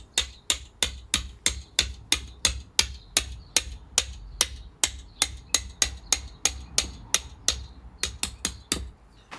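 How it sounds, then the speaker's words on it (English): A hammer drives a steel earth electrode spike into the ground with about two dozen sharp metallic blows, struck at a steady rhythm, each ringing briefly before the next. "I'll go get the hammer and we'll see where we can get that in."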